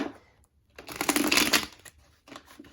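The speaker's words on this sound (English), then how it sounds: "I just want to get a good shuffle in here for you." Tarot cards being shuffled by hand: a dense papery riffling burst of about a second, preceded and followed by softer card handling rustles, close up with no talk.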